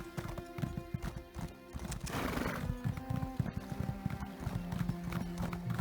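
A horse in the Elder Scrolls Online game gallops with rapid, steady clip-clop hoofbeats and lets out a loud neigh partway through, the rhythm continuing close by.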